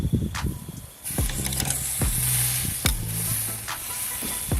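A steak sears in a hot pan with a bright, continuous sizzle, punctuated by a few sharp knocks and scrapes against the pan.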